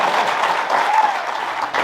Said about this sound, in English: give me a round of applause, come on.